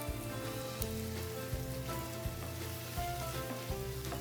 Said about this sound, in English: we want to brown it on all sides until there is nothing pink